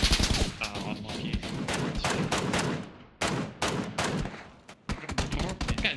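Heavy PUBG gunfire on Erangel, loud rapid bursts of automatic shots fired in quick clusters with brief pauses, crackling and close, dominating the whole stretch.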